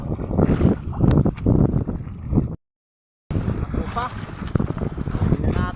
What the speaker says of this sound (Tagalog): papandar ulit tayo ng ating makina mabilis lumayo ang bangka sa payo dahil malakas ang hangin